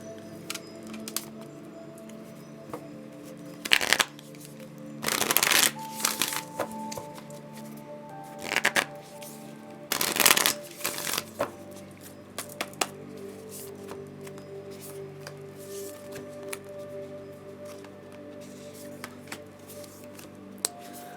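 Moon cards are shuffled in a few loud, brisk riffling bursts separated by pauses, close up in a quiet room with a low steady hum beneath.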